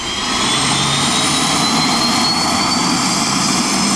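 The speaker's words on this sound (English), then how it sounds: "Yes, it has a real live jet engine in it." Continuous loud roar of the real jet engine fitted in the Ghia Streamline car at the 2009 Concorso d'Eleganza Villa d'Este, a steady whine with high tonal harmonics running throughout, close and unbroken.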